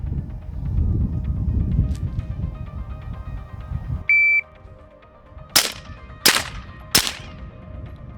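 Three sharp pistol shots fired at an outdoor shooting range, spaced roughly evenly and ringing loud and close after a stretch of low background rumble and a brief electronic beep.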